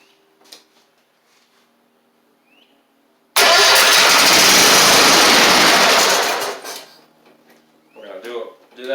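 A Toro Z2550 zero-turn mower needing fuel system work cranks hard with a loud, raspy burst that runs a few seconds and then cuts out, with someone talking quietly before and after.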